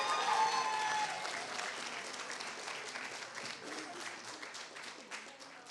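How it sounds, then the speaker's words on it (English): Applause at a 2018 magnet high school graduation ceremony, a dense wash of many hands clapping, loudest at the start and slowly thinning, heard from within a large crowd with faint voices mixed in. "let's give them a big round of applause"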